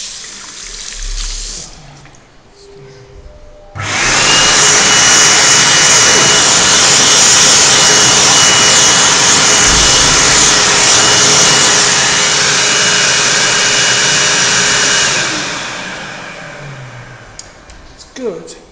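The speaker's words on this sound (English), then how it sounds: "This is a Supreme Tornado SD hand dryer." A Supreme Tornado SD electric hand dryer kicks on with a sudden loud roaring blast, holds steady for about ten seconds, then winds down and cuts off.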